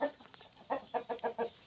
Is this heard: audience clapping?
no